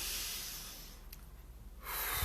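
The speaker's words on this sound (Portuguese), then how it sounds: "a respiração mais profunda" A slow, deep inhalation during a guided morning hypnosis exercise for pain control: a soft breathy rush that fades into quiet, then a second airy intake near the end, close and alone with no talking.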